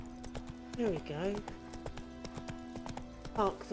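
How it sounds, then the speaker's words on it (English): Horse hooves clip-clopping in the video game The Witcher 3, a quick run of close, evenly spaced hoofbeats slowing to a stop, with game character speech over them. "Park the horse."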